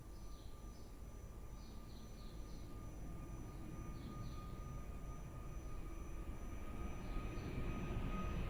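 An airplane taking off at Lisbon Airport, a distant jet engine rumble that swells gradually louder over the seconds, with faint bird chirps scattered on top.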